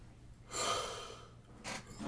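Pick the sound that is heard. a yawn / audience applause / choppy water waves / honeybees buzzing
a yawn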